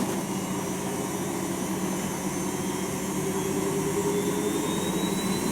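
A Philips Elite Series 90 AWB949 washing machine on a 60°C cotton cycle, spinning at high speed with a loud, steady roaring whine and a rising tone, continuous throughout with no talk.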